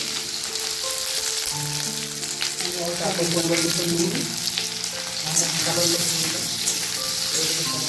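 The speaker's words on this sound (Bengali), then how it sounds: "মা সর্ষে ফোড়ন দিয়ে দিল সর্ষের তেলে" Mustard seeds sizzle and crackle steadily in hot mustard oil in a kadai, a dense, continuous frying hiss with a faint clink of utensils and some tonal sound in the background.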